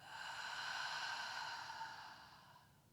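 One slow, soft exhalation out through the mouth during a yoga breathing exercise, a breathy whoosh lasting about three seconds that fades at the end, close and quiet, with no talking.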